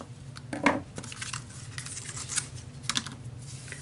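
Ribbon scissors cutting a length of ribbon during papercraft layout assembly, a few short crisp snips and rustles close by, with the loudest cut early on and a smaller one near the end, no talking.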